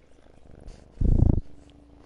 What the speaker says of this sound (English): Can I get you to purr harder?